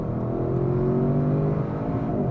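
An Audi RS6 Performance wagon pulls hard under full acceleration with all four wheels driving, its engine drone rising steadily and loud from inside the cabin, with no one talking.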